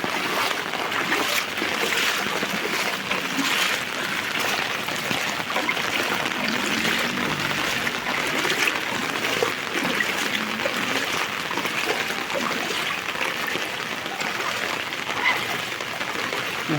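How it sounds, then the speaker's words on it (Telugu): Heavy rainwater rushing along flooded, waterlogged roads after storm rains, a steady loud broadband wash of flowing water that holds for the whole stretch with no voices. "వర్షం కురిసిన తాటికి చూడు రోడ్లు జలమయం అయిపోయినాయి"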